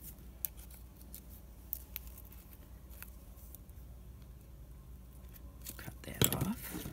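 Scissors snipping through the strings holding puzzle-piece craft embellishments together. A few faint, spaced clicks, then a louder crisp cut at the end, with quiet talking nearby.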